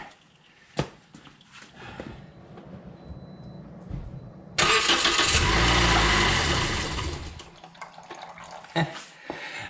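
A 2013 Toyota Corolla engine cranks and starts during winter maintenance, a sudden loud roar midway that holds for a few seconds and then eases, with someone talking and scattered clanks before and after.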